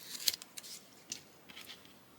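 Adhesive backing peeled away and pressed onto fabric for a cross stitch jar finish, heard as faint, quiet crinkly rustles and a few soft ticks in close, otherwise still surroundings.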